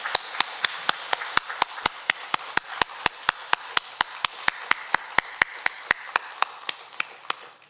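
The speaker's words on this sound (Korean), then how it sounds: "힘찬 박수로 영광 돌립니다" A church congregation at a Korean Sunday worship service claps in unison to a steady, brisk beat, with sharp, evenly spaced strikes of about four per second continuing throughout.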